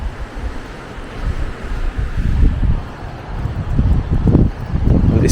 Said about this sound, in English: It's a bit of a windy day here on the front.